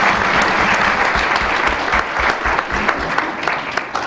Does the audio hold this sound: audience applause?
yes